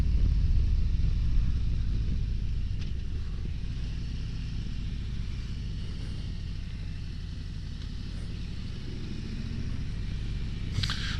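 A 2023 Harley-Davidson Road Glide Special rumbles along at a steady cruise, its low engine drone blended with heavy wind noise throughout.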